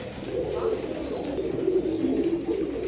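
Pigeons coo softly at close range among a group of female pigeons kept for sale, a steady low murmuring that runs throughout with no clear breaks.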